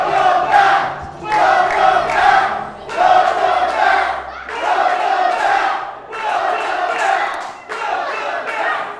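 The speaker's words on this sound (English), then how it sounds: "As you can hear from our capacity crowd, a huge welcome back, champ, for Colby Corino." A capacity crowd at an independent wrestling championship match chants in loud, rhythmic waves, about five repeated surges of massed voices over nine seconds.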